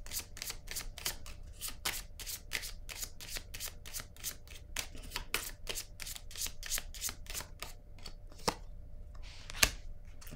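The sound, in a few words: shuffling and drawing tarot cards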